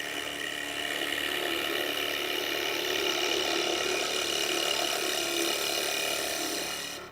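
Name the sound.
gouge cutting wood on a lathe, turning a spatula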